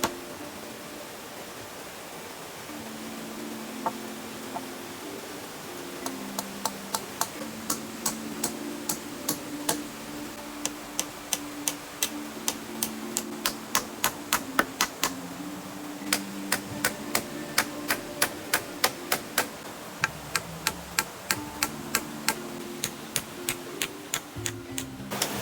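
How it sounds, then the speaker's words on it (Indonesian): Nails are hammered into the bamboo floor frame of a shelter being built: a long run of sharp, close hammer taps, irregular at first, then fast and steady, over a constant background hum. "Selanjutnya untuk landasan lantainya langsung aku paku biar lebih kuat."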